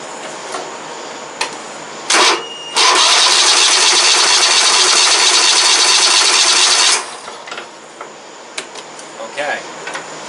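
An old White outdoor riding mower, left sitting for seven years, cranks briefly and then starts, its engine running loud and steady for about four seconds before cutting out, followed by faint clicks and handling noises.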